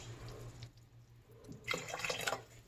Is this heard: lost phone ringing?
no